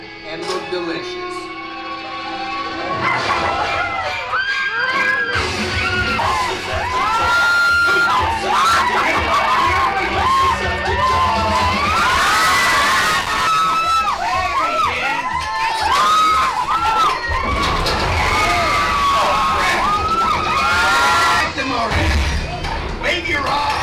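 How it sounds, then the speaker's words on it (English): A crowd of riders screams and cheers loudly aboard a Halloween-themed attraction at Disneyland California Adventure, with children's shrieks, yells and whoops rising and falling continuously over the ride's rumble. "if you see a scary creature, scream real loud and look delicious."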